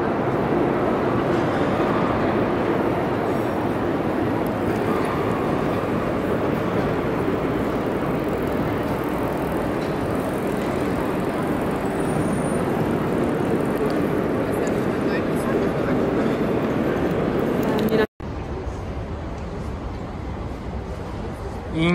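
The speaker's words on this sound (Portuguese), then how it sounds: "Essa daqui é uma das maiores estações de trem da Europa." Busy ambience inside Leipzig Hauptbahnhof, one of Europe's largest train stations, with a steady wash of crowd murmur and distant rumble filling the hall before cutting abruptly near the end.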